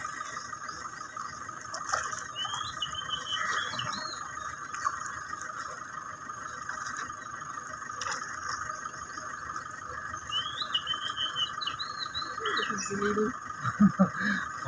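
Sparrows and crows call outdoors: short bright chirping bursts come in two brief clusters over a steady background hum, with low murmurs near the end.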